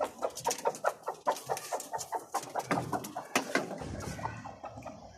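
A rooster clucks close by in a rapid, uneven run of short calls that keeps going throughout, with a few sharper squawks mixed in.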